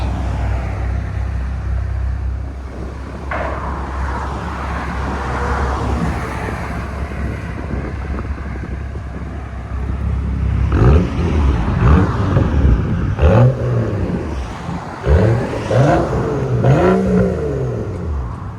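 A 2012 BMW 535i with a 3.0L inline-six and straight pipes idles with a steady drone, then launches hard with a loud, rising rasping exhaust roar and revving sweeps, close and without talk.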